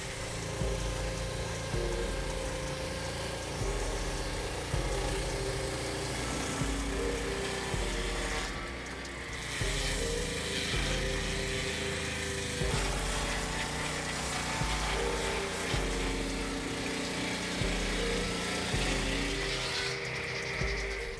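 An automatic wood sawing machine used in woodworking runs continuously, giving a loud, dense mechanical roar with a steady drone and small rhythmic shifts throughout, briefly dipping once.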